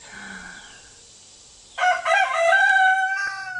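A rooster crows loudly and close by in one long drawn-out call, preceded by softer bird chirps and clucking in a quiet outdoor setting.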